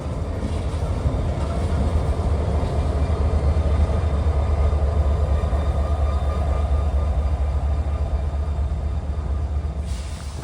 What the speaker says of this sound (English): So as 905 moves up to reconnect with the other half of the train that I left behind